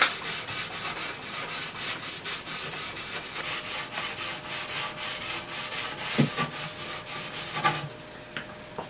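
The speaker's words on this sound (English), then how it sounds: "Now I'm just going to gently run this stone down this edge that I have a 1-degree bevel" Sharpening stone rubbed along a snowboard's steel edge set at a 1-degree bevel to remove burrs: steady, close rhythmic rasping strokes, a dense scratchy hiss repeating evenly, with a couple of small knocks near the end.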